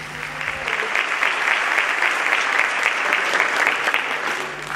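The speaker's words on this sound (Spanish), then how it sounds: "Así que les pido un aplauso para Héctor Olmos, el primer conferencista" Sustained theatre audience applause welcoming the first speaker at a seminar in San José, a loud, dense and even roar of many hands clapping that fades slightly at the end.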